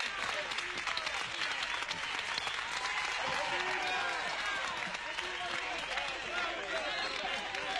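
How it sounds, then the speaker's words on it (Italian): A large crowd hails a president with continuous applause and cheering like the ovation for great bullfighters after a corrida, a dense wall of clapping with a voice talking over it. "Eugenio, senti, il popolo ti sta acclamando. Ti applaudono come fanno per i grandi toreri alla fine di una corrida."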